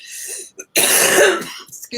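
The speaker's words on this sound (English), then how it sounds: "I have a chronic cough that I've had for 20 years" One person gives a short throat-clearing cough, followed by a stronger, harsh cough and a few quieter breathy sounds, close up with no talk.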